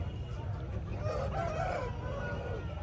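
An Aseel rooster at a Saturday fowl market in Mydukur crows once, a drawn-out call rising and falling over steady low crowd murmur and background bustle.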